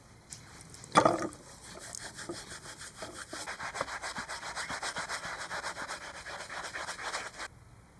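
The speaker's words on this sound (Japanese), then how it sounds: "取り切れる範囲でサビは落としておこうって思ってジフとボンスターで洗いました" Rusty scooter parts from a two-stroke Yamaha YB-1 are scrubbed with Jif cream cleanser and Bon Star steel wool, a close, rhythmic back-and-forth rasping that repeats steadily for several seconds after a sharp knock.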